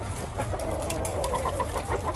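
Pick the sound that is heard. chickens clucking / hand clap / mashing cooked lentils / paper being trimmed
chickens clucking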